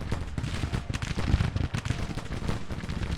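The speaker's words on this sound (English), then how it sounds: "That's a lot of firepower coming in there." Dense, continuous gunfire from a Grand Tactician: The Civil War battle: overlapping musket volleys crackle and thud in a loud, unbroken stream with no talking.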